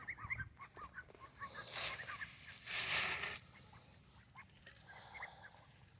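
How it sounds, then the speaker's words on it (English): Farm ducks in the open after a rainy morning, giving scattered honking quacks at a moderate distance over low outdoor rumble, with a few louder calls mixed in. "Come on, ducks."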